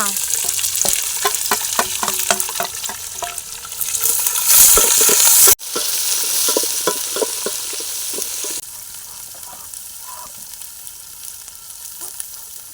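Onions and nuts sautéing in a pan for country chicken biryani, a continuous close sizzle with rhythmic spatula scrapes and stirring knocks, a brief louder burst midway, then a quieter fry.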